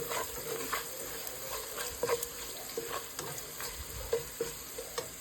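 Turmeric and salt stirred into a frying pan of hot oil: a steady bright sizzle with repeated scraping strokes of a spoon across the pan, close and fairly quiet, no voices.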